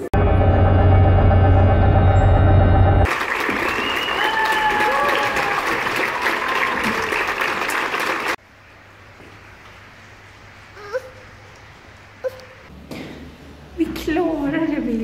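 A theatre audience claps loudly and densely, mixed with music, for roughly eight seconds, then cuts to a quiet room where people talk softly.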